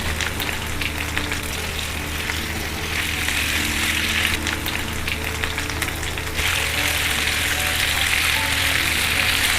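About 300 to 400 grams of chicken fries with onions in a pan, a loud, continuous close sizzle with soft stirring, growing a little louder toward the end, with no voices.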